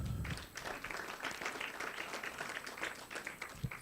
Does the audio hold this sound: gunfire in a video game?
no